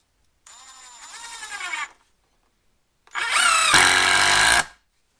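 A cheap Galax cordless impact driver runs in two short bursts: a lighter whirring spin that rises in pitch, then after a pause a louder, harsher rattling run lasting about a second and a half.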